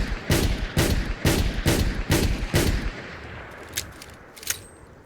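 Six evenly spaced booming shots from a Smith & Wesson R8 .357 Magnum revolver in Fallout 4, loud and close, then a quieter tail with faint mechanical clicks.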